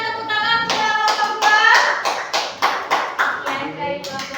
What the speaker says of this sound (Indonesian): Kita berikan tepuk tangan kepada kelompok